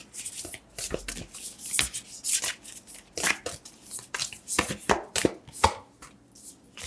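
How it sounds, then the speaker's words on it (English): Oracle cards are shuffled by hand in quick, irregular riffles and taps, close and crisp, with short pauses between bursts and no talking. "It's a little tough to shuffle today."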